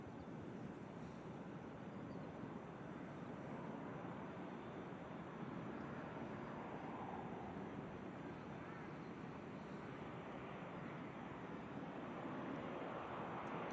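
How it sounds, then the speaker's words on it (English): A Ryanair airliner arriving from Budapest at Manchester Airport, heard as a steady, broad jet roar that holds at a fairly even level throughout, distant and unbroken, with wind noise mixed in. "Ryanair just arriving in from Budapest"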